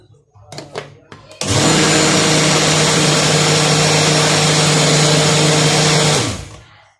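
A kitchen blender whirs loudly and steadily for several seconds, blending milk, oil, salt and lemon juice into butter, then winds down; brief clatter and faint talk come before it.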